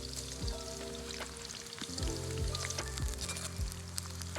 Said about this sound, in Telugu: నూనె వేడెక్కిందండి, ఉల్లిపాయలు అనేది ఫ్రైడ్ ఆనియన్స్గా వేపుకుంటాం.